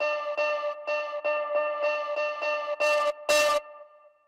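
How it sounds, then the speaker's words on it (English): A sampled tone in the Iris 2 sampler repeats in quick, even pulses, then two final bursts turn harsh and noisy as clipping is applied, before the sound fades out. "All right, and let's do clipping."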